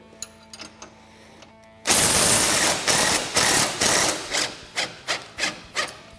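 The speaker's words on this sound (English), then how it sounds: "So we'll remove our nut off of our bottom shock bolt, and then our upper shock bolt as well." A ratchet working the nut off a rear shock bolt on a Polaris General XP 1000 side-by-side, close and loud, starting with a long rasping pull and then settling into a steady rhythm of shorter ratcheting strokes.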